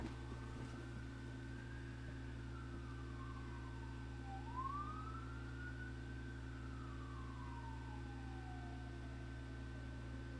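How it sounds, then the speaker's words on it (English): An ambulance siren passing down a street outside a window, a faint rising and falling wail heard from a distance over a steady low indoor hum. "There's an ambulance driving down the street"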